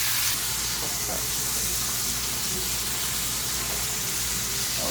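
Meat browns in a pan before going into a roaster pan, giving a steady, dense sizzling hiss that stays loud and even throughout, close up, with a faint voice underneath.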